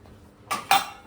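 Metal utensils clatter in a kitchen as dishes are gathered for washing: two quick, bright clinks of steel vessels striking each other, close and clear after a near-silent moment.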